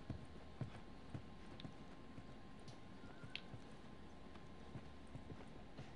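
Horse hooves clip-clop at a slow walking pace in The Last of Us, a steady rhythm of soft, moderately near footfalls over a quiet outdoor ambience, with no talking.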